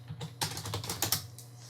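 Rapid typing on a computer keyboard, a quick irregular run of crisp clicks and key taps, close and alone.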